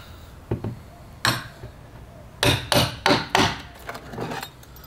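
Hand hammering of nails into timber stair formwork, a handful of sharp, close blows, first spaced out and then in a quick run of four strikes, with no speech.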